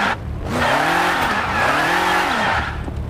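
Turbocharged car engine in the Car Parking video game revving up and down twice in rising and falling sweeps, loud and close, with a hiss and tire-squeal edge and no talking.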